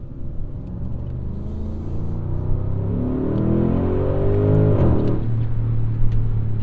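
Audi SQ7 from 2022 accelerating hard, its engine rumble building after a brief turbo lag into a rising, revving roar heard from inside the cabin, loud and steady.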